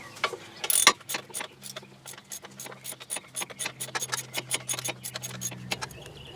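A wrench slowly backs out the bolt holding the ABS wheel speed sensor on a 1998 Chevy Lumina, giving a run of quick, faint metallic clicks and ratcheting ticks at close range, with no talking.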